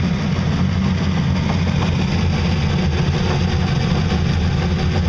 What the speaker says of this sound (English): let's go take a look at the motor while it's going